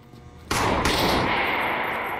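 Gunfire in the Trepang 2 demo, a sudden loud burst of shots breaking a quiet moment, followed by a sustained roaring barrage that continues to the end.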